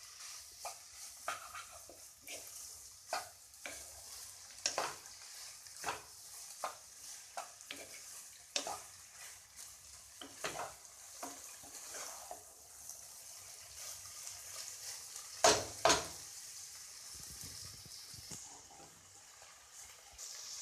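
Egg chicken chowmein is stirred in a frying pan, with a spatula scraping and tossing in repeated strokes over a soft sizzle, close and fairly quiet, with a brief louder clatter near the end.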